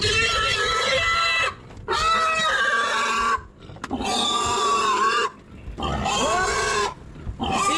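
Pigs on a farm squeal and grunt loudly in long bursts separated by brief pauses, with roosters and chickens faintly audible in the background.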